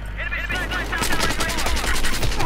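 Rapid automatic gunfire from a gun in Battlefield 4 in one continuous loud burst that runs through the whole stretch.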